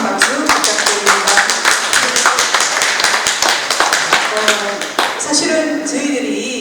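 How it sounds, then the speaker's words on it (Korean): An audience at a tea-culture forum in Busan claps for a lecturing professor: a crowd of sharp, closely spaced hand claps that keeps going throughout, while a voice speaks over it. "큰 박수 부탁드립니다"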